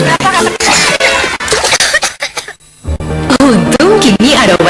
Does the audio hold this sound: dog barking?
no